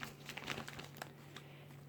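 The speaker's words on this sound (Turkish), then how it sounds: "Evet poşeti açtım." A plastic bag of potting soil is opened, giving soft, close crinkling and rustling of thin plastic over low steady hum, with no voices.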